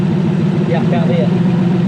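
A Toyota Surf with a 1UZ V8 engine idles with a steady low rumble close by, while someone talks briefly over it.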